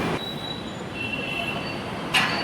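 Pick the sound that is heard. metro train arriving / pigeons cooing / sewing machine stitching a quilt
metro train arriving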